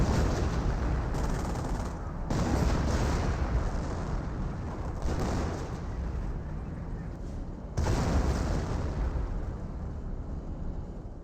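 Off-map artillery barrage in Company of Heroes, a sustained roar of heavy shelling with repeated surging explosions and rumbling impacts close in, broken by short gaps between volleys.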